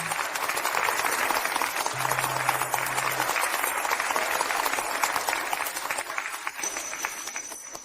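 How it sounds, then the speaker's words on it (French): Sustained applause from a crowd welcoming guests at a formal event, dense and even clapping throughout at moderate distance, with a faint tone briefly audible beneath it. "accueillons-les par une salve d'applaudissements"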